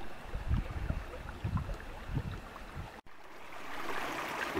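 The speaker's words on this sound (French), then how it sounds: "on voit et on entend ce ruisseau qui coule abondamment là" An abundant brook flows beside a country hiking path, a low, continuous watery rush with rumbling bursts, heard alone.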